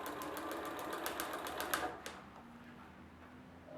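A sewing machine rapidly stitching the edge of Etaflon fabric, a steady close mechanical chatter for about two seconds before it stops, leaving quiet room hum.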